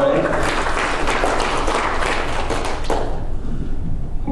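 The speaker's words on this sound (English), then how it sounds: "Give the Lord another hand clap of praise." Church congregation clapping hands in praise during a worship service, a dense continuous wash of claps blended with voices, fading out near the end.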